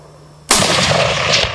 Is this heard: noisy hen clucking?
no